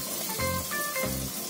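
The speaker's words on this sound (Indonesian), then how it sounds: "Lalu setelah panas, kita goreng si adonan bakwan jagungnya." Corn fritter batter (bakwan jagung) is lowered into hot oil, giving close crackling sizzles that swell in two brief bursts over a steady frying hiss, without speech.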